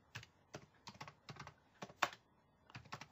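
Keys clatter on a computer keyboard as text is typed into a CmapTools concept map, giving about a dozen soft, quick taps in an irregular rhythm, close by and faint, with no talking over them.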